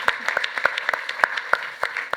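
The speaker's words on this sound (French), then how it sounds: "Oui, on peut applaudir également une nouvelle fois." A conference audience at an e-health session on pharma and startup collaboration claps, with sharp, fairly close claps at an irregular rhythm, moderately loud, with no talk over it.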